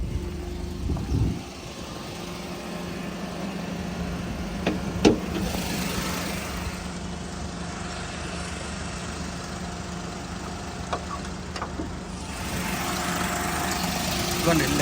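Car engine running at idle with the bonnet open, a steady low hum heard close up, with a couple of brief clanks and some background noise over it.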